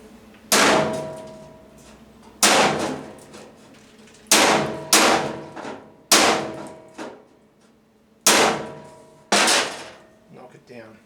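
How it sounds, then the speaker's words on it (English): Hammer blows on rusty sheet metal in the seat area of a VW bus being welded: loud, ringing metallic strikes land one at a time about every second or two, each clang fading out before the next. "so I just come in with the hammer again."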